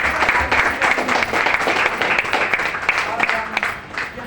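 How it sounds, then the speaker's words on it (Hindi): A seated audience of couples at a team business meeting in Deoria breaks into loud, dense clapping that continues steadily for several seconds, close and full, before easing slightly at the end. "तो एक शानदार से ताली अपने लिए बजाइए आज।"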